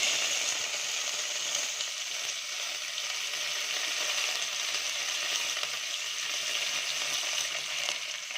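Curry leaves crackling and sizzling in hot oil with mustard seeds and urad dal, a steady, close, dense frying hiss running unbroken throughout with no talk.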